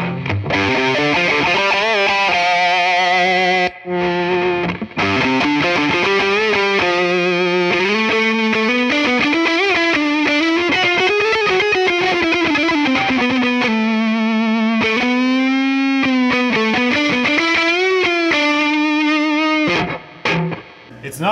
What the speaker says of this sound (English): Not the thickest reverb in the world